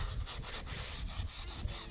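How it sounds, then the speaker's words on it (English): Stained outdoor step tiles being scrubbed by hand: steady, rhythmic rubbing strokes about twice a second, close and fairly loud, a dry scratchy back-and-forth with no voices. "I'm just cleaning them up a bit, just to get some stains off"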